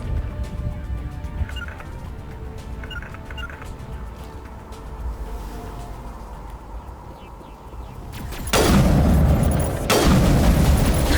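Gunfire from the Mass Effect Legendary Edition video game at Eden Prime: a steady low rumble of combat fills most of the stretch, then loud, dense bursts of shooting erupt near the end and keep going.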